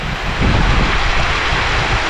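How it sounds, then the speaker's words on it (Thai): Heavy rain pours down in a forest on a mountain, a dense, loud, continuous roar of falling water with no voices. "ฝนตกแรงมากเลยนะ"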